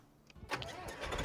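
Tractor engine in the Farming Simulator 2025 video game cranking and catching, a short rumbling start that settles into a steady, rising running note.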